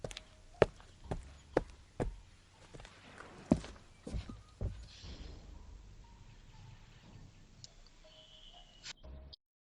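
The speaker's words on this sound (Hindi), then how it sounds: "सीढ़ी चढ़ते हुए घुंटू के पैरों की आवाज ऊपर आ रही थी।" Footsteps climbing a wooden-sounding staircase, a series of sharp, fairly close thuds at an irregular walking pace that thin out into softer shuffles and faint knocks.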